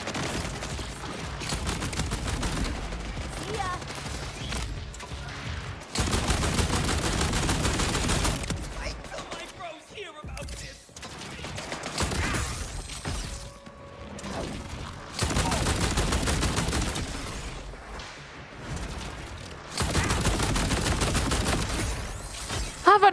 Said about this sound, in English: Am I shooting potatoes? I think I'm shooting potatoes.